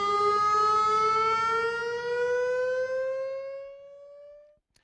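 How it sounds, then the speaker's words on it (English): A civil defense siren sounds during a monthly test tone in Torrance, California, a loud sustained wail with many harmonics that slowly falls in pitch and fades out over several seconds, with no one talking. "The first monthly Siren Test of the year takes place tomorrow, alerting the community in case of future emergencies."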